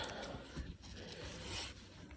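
Scissors or a rotary cutter trimming apart joined quilt binding fabric strips, a steady close scraping and rasping texture that runs continuously and alone for a couple of seconds.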